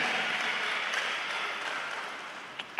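Audience applause at the 7th National Don Bosco Games, a Salesian event: a steady, dense wash of clapping that holds throughout and tapers slightly near the end.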